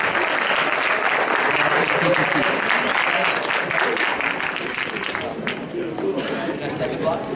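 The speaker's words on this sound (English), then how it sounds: "Let's give a big round of applause for this block" Students and community members applaud at a student council election debate, a loud burst of sustained clapping with background chatter and voices underneath, gradually easing off over seven seconds.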